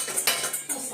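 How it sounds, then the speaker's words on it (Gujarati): Knife chopping fresh fenugreek leaves in a home kitchen, giving brief crisp cuts over a steady clatter of utensils; no voices. "આ મેથીની પણ કાપું છું"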